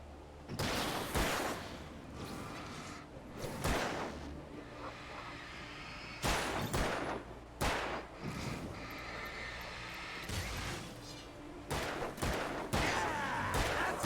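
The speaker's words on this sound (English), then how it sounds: "Shoot them, Hunter, man." Gunfire in the video game Alan Wake Remastered: several sharp shots ring out at irregular intervals, some in quick pairs, over a steady windy background hiss.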